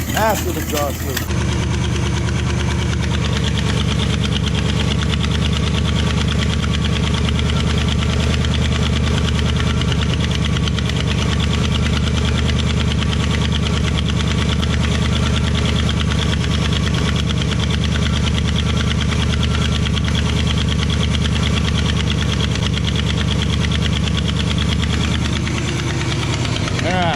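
An old project vehicle's engine idles loudly and steadily on a test run, a rough continuous rumble with a faint knocking texture throughout, close to the listener.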